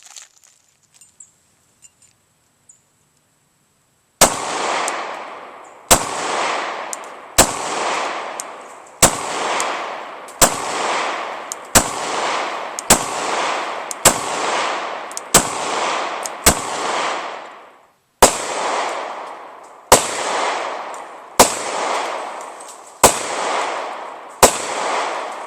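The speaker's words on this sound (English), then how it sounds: "we're going to test fire our Glock right before our torture test" A heavily used 12-year-old Glock 23 pistol firing outdoors: after near silence, about fifteen loud, sharp shots ring out at a steady pace, each with a brief echoing tail and a short pause midway.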